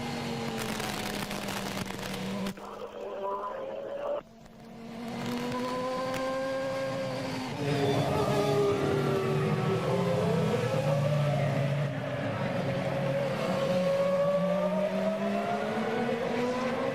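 Formula 1 car racing through the streets of Monaco during the 2001 Grand Prix, its engine a loud, high-pitched scream whose pitch rises and falls with gear changes, briefly dipping and muffled near four seconds before roaring back steadily.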